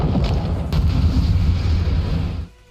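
Continuous rumbling booms of cascading dark-energy explosions during a Final Fantasy XIV alliance raid boss fight, loud and dense throughout, cutting off abruptly near the end.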